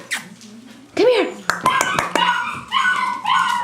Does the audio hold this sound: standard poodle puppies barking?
yes